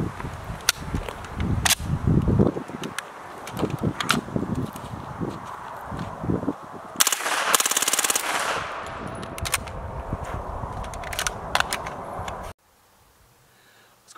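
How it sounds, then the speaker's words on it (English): A PTR MP5 machine gun fitted with a Dead Air Wolfman suppressor fires outdoors in sharp, muffled cracks and short bursts, scattered across the span with a louder sustained burst midway, then silence near the end. "we got the Dead Air Wolfman on the PTR MP5 machine gun"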